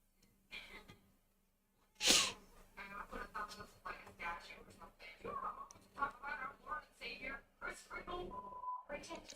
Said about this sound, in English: Pretend to sneeze on your sassy brother.